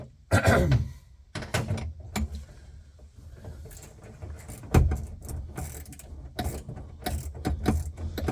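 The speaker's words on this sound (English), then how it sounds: "tighten with the ratchet" A ratchet clicks in scattered short runs and thunks while a 1968 C10 air conditioning unit is tightened in, with metallic clanks throughout.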